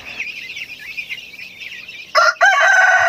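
Pet chickens and chicks cluck in a steady, busy chatter, then a loud, strained rooster crow breaks in near the end, close and clear with no voices.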